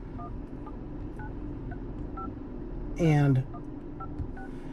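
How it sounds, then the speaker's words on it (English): Telephone keypad tones beep in a steady series while a number is dialed on a Buick or Chevrolet car's infotainment screen, with someone speaking briefly over one tone. "we can simply go in here and we can dial the phone number"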